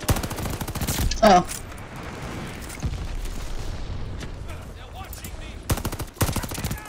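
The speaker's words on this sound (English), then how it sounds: "I was shooting someone and then he just disappeared." Rapid video-game gunfire from a gold-camo gun comes in dense bursts at the start and again near the end, with quieter shots and game ambience between and a brief exclaimed voice.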